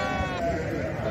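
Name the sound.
sheep bleating at a weekly livestock market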